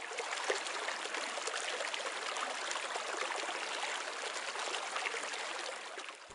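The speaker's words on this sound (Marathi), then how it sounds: "माझ्या पाठीमागे आपल्याला जो पाण्याचा खळखळणारा आवाज येतो" Water gurgles and rushes steadily along a stream in Latur, a continuous, fairly loud flow that runs unbroken throughout with no voices.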